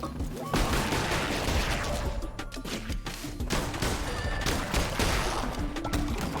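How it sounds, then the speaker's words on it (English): Rapid volleys of projectile shots and weapon-swing impacts from combat in Cult of the Lamb, played on extra hard difficulty, crackle in dense overlapping bursts at steady loud level, with occasional sharp thwacks and background game music. "Fire a projectile when you swing your weapon"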